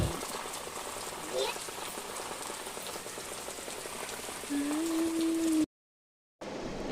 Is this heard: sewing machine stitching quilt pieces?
no